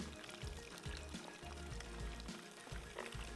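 Spring chicken pieces frying in oil in a pan, a continuous quiet sizzle with crackling and soft popping throughout, no talk.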